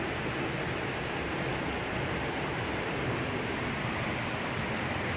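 Heavy rain pours down in a constant, loud wash of hiss, unbroken and even throughout, with no talk or distinct sounds rising above it.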